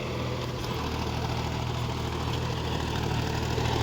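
A John Deere 5050D GearPro 4WD tractor engine idles with a steady, low, throbbing hum nearby and no voices.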